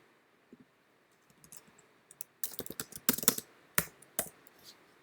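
Bursts of computer keyboard typing while code is entered, irregular clicking keystrokes that start sparse and quiet, then grow into denser, louder clusters, with no voices.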